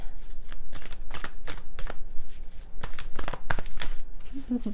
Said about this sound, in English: These are a little bit hard to shuffle.